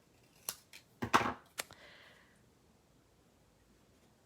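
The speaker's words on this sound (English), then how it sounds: "Watch, we're gonna cut that in half." Hand snips cutting a piece of card stock in half, several quick, close crisp snaps and a short crunchy slicing run, then quiet.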